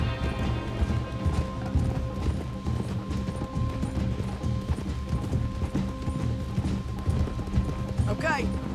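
Horses ridden at a steady clip-clop in the Red Dead Redemption 2 video game, hoofbeats continuous under a bed of game music and ambience, with a brief chirping sound near the end.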